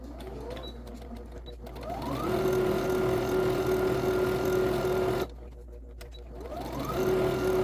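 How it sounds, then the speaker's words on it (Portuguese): A sewing machine stitches a fabric bag, starting with a short backstitch, its motor whirring up to a steady loud hum, stopping briefly, then revving up again, with no voices over it. "Quando vocês iniciarem a costura, no início dê um retrocesso."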